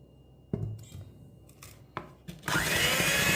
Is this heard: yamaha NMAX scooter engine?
no